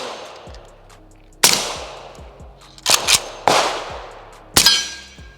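An M70AB2 AK rifle fires single shots outdoors, four or five loud cracks spaced a second or so apart, each with a sharp attack and a long ringing echo trailing off.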